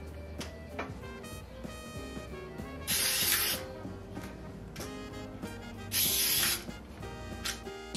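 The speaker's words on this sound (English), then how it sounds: "Spray them with non-stick baking spray." Non-stick baking spray is sprayed into muffin liners in two trays, two short hissing bursts about three seconds apart over a background of music.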